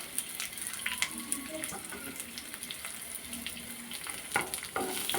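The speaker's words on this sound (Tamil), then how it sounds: "வெங்காயம் சேர்த்து நல்லா வதக்கிக்கோங்க" Chopped onion sautés with urad dal in a pan, a soft continuous sizzle broken by light scraping and clinking of a stirring spoon.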